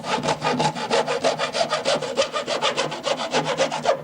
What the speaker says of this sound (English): Just cut that length of doweling off.